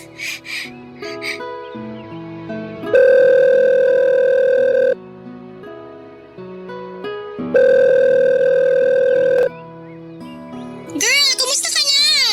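A cellphone sounds a dial tone: steady, loud electronic tones held for a couple of seconds each, repeated twice, between shorter stepping tones and a brief high warble at the end.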